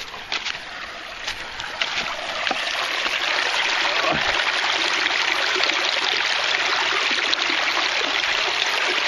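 Water from a stream being gathered outdoors, a steady close rush and trickle of flowing water with small splashes and dribbles, continuous throughout, with no talking.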